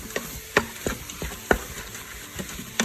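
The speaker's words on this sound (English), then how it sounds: "Okay, so you can see in there, just browning it just like you would in the pan." Meat browning in an Instant Pot, stirred and scraped with a wooden spoon: sharp intermittent scrapes and knocks every half second or so over a soft steady sizzle, close and alone.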